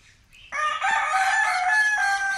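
A rooster crows loudly and close, one sustained cock-a-doodle-doo after a brief quiet start, with other farm animal calls faintly around it.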